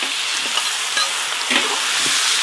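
Large chunks of very fatty duck stir-fried hard in their own rendered fat, a dense continuous sizzle broken by faint scraping stirs, steady and close with no voices.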